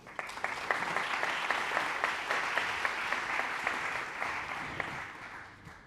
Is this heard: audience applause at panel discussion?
yes